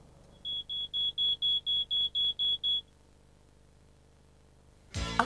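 Ten sharp, high-pitched smoke alarm beeps in a steady, even rhythm, loud and close, followed by a short burst of noise.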